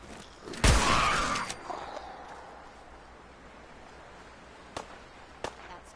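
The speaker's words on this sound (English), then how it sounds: "I hear shots." Gunfire in Fallout 4 bursts out loudly in a sharp crack with a ringing tail, followed a few seconds later by two fainter, distant pops over quiet ambient background.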